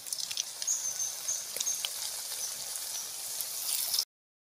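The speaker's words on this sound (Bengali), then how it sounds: "এখন আমি একটা একটা করে পাপড়িগুলো দিয়ে দেব তেলের মধ্যে।" Papri flour crisps frying in warm oil make a steady, bright bubbling hiss that runs without pause for about four seconds, then cuts off abruptly.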